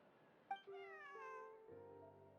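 A cat gives one drawn-out meow with a falling pitch, followed by a lower, nasal trailing call, close and clear over a quiet background with no talking.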